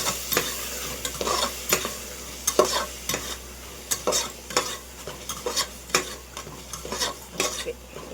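Mushroom biryani masala with yogurt sizzles in a pan while a ladle stirs it in steady, repeated scraping strokes. Metal clinks against the pan roughly every half second, close up and with no talking.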